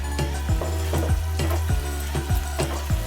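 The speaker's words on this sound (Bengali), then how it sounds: "টমেটো আর পেঁয়াজটা ভালো করে একটু ফ্রাই করে নেবেন 2 মিনিট ধরে" Chopped onion and a large tomato frying in a pan for paneer keema: a constant oily sizzle with a low hum beneath, punctuated by regular stirring scrapes about every half second, close and steady.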